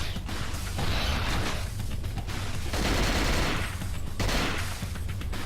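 AK rifle fire from the video game Cold Fear crackles in three loud rapid bursts separated by short pauses, each a dense rattle of shots close up with no talking.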